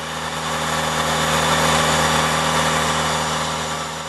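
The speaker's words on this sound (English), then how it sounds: "Drop the revs down to idle whilst you refill the sprayer again with 250ml" A car engine idles steadily during a Revive turbo and engine cleaner treatment, a constant low hum with a faint vibration that swells slightly midway and runs on without any talk.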